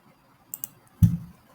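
A couple of light computer mouse clicks followed by a heavier click-thump while an online form is filled in, close and isolated against near silence.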